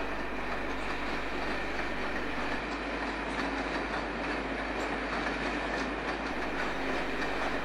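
A 1980s British train moving through London Euston station gives a steady rolling rumble with faint rhythmic wheel clicks and low hum, continuous and fairly distant.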